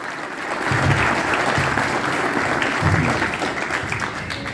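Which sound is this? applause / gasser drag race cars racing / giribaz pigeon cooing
applause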